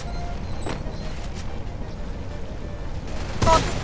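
Repeated grenade explosions in a video game: a few dull booms and bursts, the loudest near the end, over continuous game noise with no clear voice.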